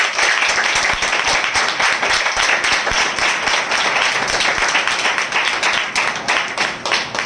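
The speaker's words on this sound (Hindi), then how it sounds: "हम जोरदार तालियों से उनका स्वागत करें" Loud, steady clapping from a large assembly of believers gathered at a spiritual gathering, sustained dense applause running the whole stretch without pause.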